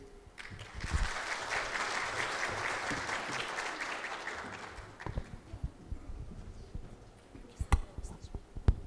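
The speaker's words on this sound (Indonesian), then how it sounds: "Boleh tepuk tangannya sekali lagi untuk Mr. Johnson." Audience applause at a network operators' conference in Jakarta, fairly faint and continuous for about four seconds, then thinning into scattered claps and room noise.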